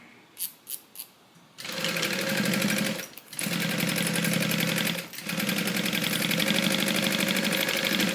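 A sewing machine stitches through a thick seam on a bag. A few light clicks come first, then a loud, close, steady run of rapid stitching with two brief pauses.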